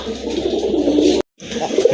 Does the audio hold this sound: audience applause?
no